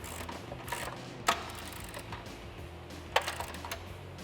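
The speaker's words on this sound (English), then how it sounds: "I'm gonna use a 19 socket on the nut side and a 19 socket on the bolt head side" A 19 mm socket ratchet tightening control arm bolts on a 1979-2004 Ford Mustang, with soft mechanical clicking and two sharper metallic clanks of tool on the bolt, close and fairly quiet.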